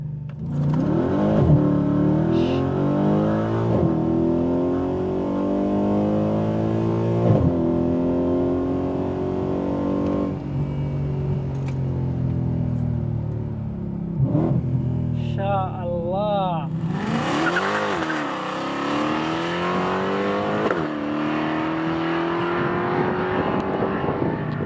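A Mercedes C63 AMG Black Series with a 7-speed automatic gearbox revs hard and accelerates repeatedly, its loud engine note rising and falling through gear changes, with a person speaking over it.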